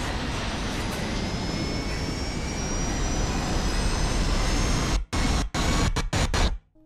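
Plane crash scene from the film The Grey: a loud, steady roar of aircraft engines with thin rising whine tones fills the clip, then breaks into abrupt cuts of silence near the end. No talk.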